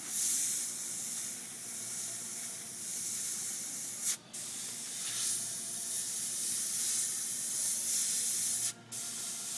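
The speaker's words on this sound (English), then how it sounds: "This airbrush is excellent for that" An airbrush sprays paint in a steady, close hiss for an artist doing lettering scroll work, broken by two brief pauses before the spray resumes.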